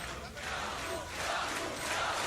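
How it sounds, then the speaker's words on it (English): Esports arena crowd at a Counter-Strike quarterfinal in Katowice cheering and shouting in a dense, continuous roar that swells slightly toward the end. "And the crowd cheering him on."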